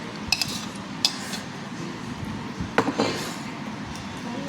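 A metal spoon clinks and scrapes against a bowl during a restaurant lunch, giving a few scattered light taps over quiet background murmur.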